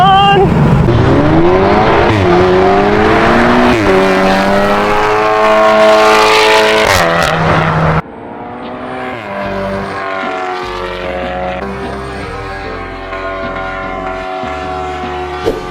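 A BYD Seal electric sedan launches hard in a drag race, its motors whining in rising sweeps that climb in pitch as speed builds, loud and close, before a cut to a steadier, lower whine of continued acceleration.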